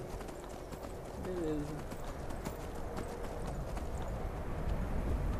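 Horse hooves galloping in the Skyrim video game, a steady fast clip-clop running throughout over wind and ambience, with a brief neigh early on and someone speaking over it.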